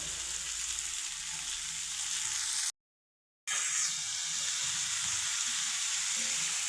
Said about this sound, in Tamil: முள்ளங்கியை சேர்த்து நல்லா வதக்குங்க